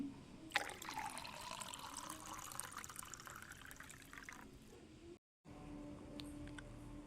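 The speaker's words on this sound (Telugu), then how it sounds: "ఒక గ్లాస్ సగ్గు బియ్యానికి నాలుగు గ్లాస్ వాటర్ని యాడ్ చేస్తున్నాను" Faint trickle of water pouring into a pot of sago pearls, running steadily for a few seconds before a brief dropout and a quieter tail.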